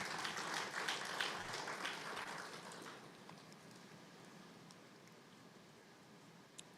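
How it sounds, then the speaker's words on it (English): Applause from a conference audience at an SME business event, fairly loud at first, then fading into a softer, thinning patter of claps over several seconds. "Another round of applause,"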